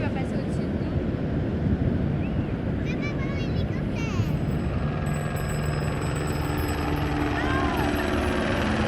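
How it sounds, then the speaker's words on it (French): A helicopter passes overhead in Los Angeles, its dense rotor rumble loud and continuous over street noise, with a person talking through part of it. "L'hélicoptère qui va passer au-dessus de nous."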